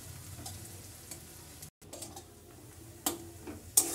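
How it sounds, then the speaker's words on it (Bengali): Onions fry in a pan, giving a quiet, steady sizzle with a few light ticks and a scrape of stirring near the end. "পেঁয়াজটা ভালো করে লাল লাল করে ভেজে নিতে হবে।"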